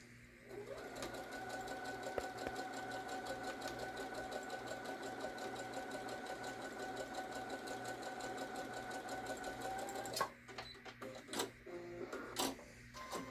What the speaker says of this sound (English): now I'm going to turn around and use my straight line as the guide for my second line of stitching